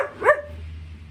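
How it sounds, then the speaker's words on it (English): A single short, sharp dog bark up close, followed by quiet room noise. "Stop barking."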